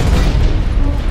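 A grenade blast in the mech shooter game Hawken, a loud, dense, low booming explosion sustained through the whole short moment with no talk over it.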